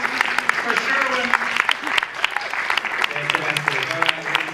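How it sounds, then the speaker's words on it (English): A crowd applauds a game show contestant at a live DePaul Humanities Center game show night, with dense, lively clapping and people talking and calling out over it the whole time. "A big round of applause for Sherwin."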